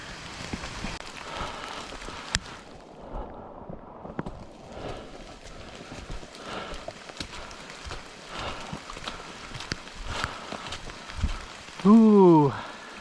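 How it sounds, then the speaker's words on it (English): Rain falls on a hiker on the Appalachian Trail as a steady patter across the whole stretch, with scattered louder drops and brief bursts of nearby movement and sounds from the hiker. "I'm gonna get out of the rain."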